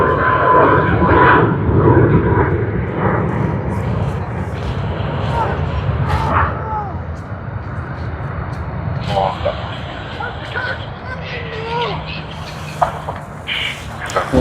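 An airliner climbs away from Sydney Airport after its takeoff roll, its engine roar loudest at first and then slowly fading into the distance, with scattered nearby chirps and voices over it.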